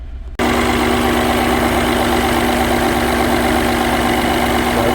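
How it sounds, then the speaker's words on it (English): A 2014 Mini Cooper engine with a cylinder misfire starts up and settles into a loud, steady idle. The close-miked running note holds for several seconds with a constant low hum and vibration, and no voices are heard. "Well, let's have a look at the engine while it's running."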